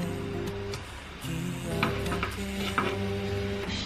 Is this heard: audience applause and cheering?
no